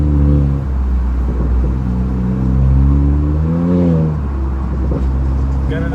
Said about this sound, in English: I need to get some RPM higher.